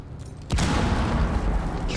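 An impact grenade going off in a video game, a single sudden loud boom that rumbles on with a low, sustained roar afterward.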